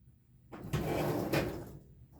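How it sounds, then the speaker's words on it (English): A desk drawer holding tags and journal cards slides open or shut with a single drawn-out scraping rumble lasting about a second and a half, close by and fairly loud. "Did you hear my drawer?"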